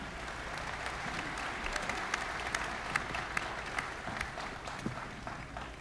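Audience applause following the national anthem at a 2014 WGU commencement ceremony, a steady wash of many hands clapping in a large hall, with scattered sharper claps rising above it.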